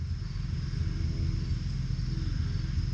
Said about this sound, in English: it's just some dude mowing his lawn